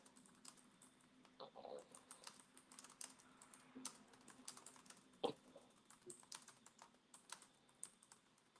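Computer keyboard typing a message, soft irregular key clicks in quick runs with brief pauses, close and quiet, one sharper tap standing out partway through.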